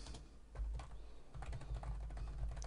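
Computer keyboard typing while entering a query name in Microsoft Access, a run of quick soft key taps at close range over a low steady hum, with no talking.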